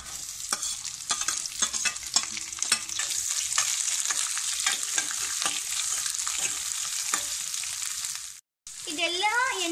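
Onion, crushed garlic and curry leaves fry in oil in a pan for a leafy-greens palya. A steady, bright sizzle runs close throughout, broken by stirring scrapes and a brief drop near the end, with a faint voice at the close.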